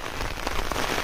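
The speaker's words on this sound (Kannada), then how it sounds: "ಹೆವಿ ಮಳೆ ಗುರು" Heavy rain pouring during a monsoon hill trek in the Sakleshpura area, a dense, loud, continuous hiss of drops hitting the ground and foliage all around, with no talking.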